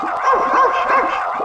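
Game dog-bark sound effect from the Magic School Bus space video game, a few close, clear yips and bow-wows in quick succession, heard alone.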